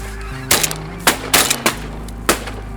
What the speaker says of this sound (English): But yeah, lots of geese in here.